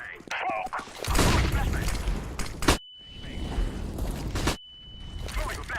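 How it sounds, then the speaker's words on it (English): A flashbang grenade goes off in Counter-Strike: Global Offensive amid loud bursts of gunfire, followed by a thin, sustained high ringing tone with sudden cutouts and a voice talking over parts of it. "Throwing a flashbang."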